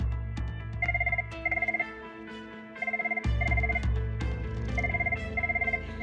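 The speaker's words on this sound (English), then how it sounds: "The phone rings, people lean back in their chairs." An office telephone rings in repeated double bursts of electronic trilling, several cycles in a row over a low background hum and scattered noises.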